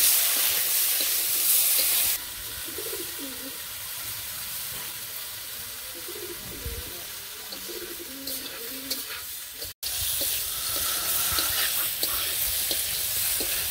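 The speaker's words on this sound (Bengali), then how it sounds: "কাঁচামরিচের ভাজি দিয়ে দিছি।" Flat beans and green chillies fry in oil in a village kitchen, a steady close sizzle with occasional stirring scrapes running the whole time.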